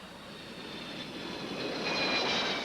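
A jet airliner on final approach for landing at Strathcona Sound, near Nanisivik, produces a steady rushing roar with a high whine that swells slightly louder as it nears.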